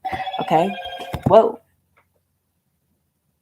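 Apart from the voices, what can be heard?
phone notification reminder alert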